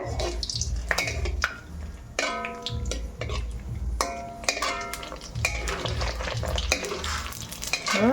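Panipuri puris frying in hot oil in a home kitchen, a steady sizzle and bubbling with repeated metallic scraping and stirring clinks from a utensil against the pan, close and moderately loud, no talk.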